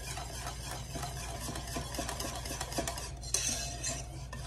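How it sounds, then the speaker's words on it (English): Chopped dark chocolate being whisked in a pot as it melts, with quiet, rhythmic scraping and clinking of the whisk against the metal under a low background hum, and one sharper knock near the end. "So add all the chocolate in and just keep whisking it until it's all incorporated."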